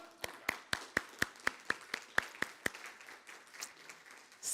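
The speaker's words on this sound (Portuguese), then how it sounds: "Vamos aplaudir ao Senhor?" Members of a church congregation clap at a family worship service in about ten evenly spaced, crisp claps. The claps are fairly quiet and stop, leaving faint room noise.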